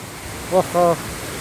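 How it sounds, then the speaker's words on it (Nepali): A steady, even rush of the Dhage Chhahara waterfall near Gairi village, Babai, fills the background, with two brief human vocal sounds rising over it midway. "यो त एकदम भवाल झरना रहेछ।"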